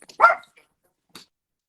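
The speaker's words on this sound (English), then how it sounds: "Sorry about the dog." A dog gives one short, close bark, followed by a faint brief yip about a second later in an otherwise quiet room.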